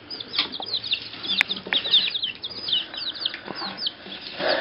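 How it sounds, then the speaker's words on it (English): Hungry backyard chickens cluck and squawk in a busy, overlapping chorus while fighting over a worm, close by and steady throughout, with sharp calls and some rustling but no talk. "that's the chickens eating a worm here at Highland"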